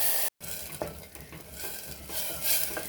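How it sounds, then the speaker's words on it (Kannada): Onions frying with masala in a pan for masala rice, with a steady close sizzle and a few stirring scrapes and clinks of a spoon against the pan, no voices. "ಆ ಮಸಾಲನ ಹಾಕ್ಕೊಂಡು ಒಂದು ಸ್ವಲ್ಪ ಹೊತ್ತು ಇದನ್ನ ಫ್ರೈ ಮಾಡ್ತಾ ಇರಬೇಕು"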